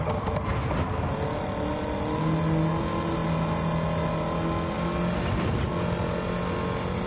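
Engine-swapped DeLorean in Gran Turismo 7 revving hard, a loud sustained engine note with shifting harmonic tones throughout, steady and close with no talk.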